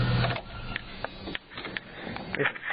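Drive-belt squeal from a Jeep Cherokee engine that is not overheating, heard as a steady, fairly loud squeaky whine with repeating brief chirps over engine noise.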